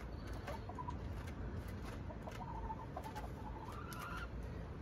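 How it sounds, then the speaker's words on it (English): Backyard flock of chickens clucking and softly calling while pecking at a head of cabbage, several short clucks scattered over a steady low outdoor rumble, fairly faint and close. "Why you peck Black Beauty?"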